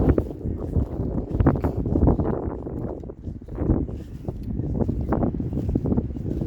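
Outdoor wind buffets the microphone in a continuous low, heavy rumble that surges and eases, loud and close, with no other clear sounds.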